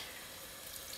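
Water running steadily from a tap while being added to a corn and chickpea chowder, a continuous close hiss and splash with no talk.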